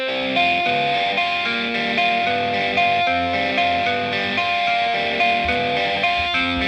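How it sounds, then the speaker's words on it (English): Distorted electric guitar played through a Marshall amp with a phaser effect, a dense sustained chordal tone with steady rhythmic strumming throughout, loud and close with no talking. "is the Marshall with distortion and phaser"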